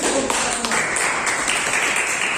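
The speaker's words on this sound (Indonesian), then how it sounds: "tepuk tangan" Classroom applause at the close of an economics lesson on monetary policy, a dense, steady patter of clapping from the students lasting a couple of seconds with no talking.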